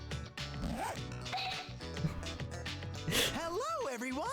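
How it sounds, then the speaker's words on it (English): Teddy in the fighting game Persona 4 Arena Ultimax unzips his bear suit, a loud drawn-out zipper rip sounding twice amid spoken dialogue and music. "Teddy suddenly undoes his zipper."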